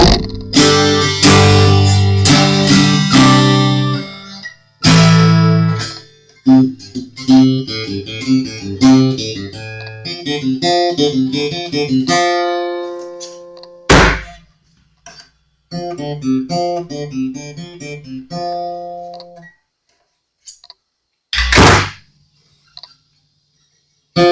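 An Ibanez acoustic-electric guitar played through a small amp: plucked notes and strummed chords ring out in bursts with pauses and sharp clicks between, loud and close, with no voices.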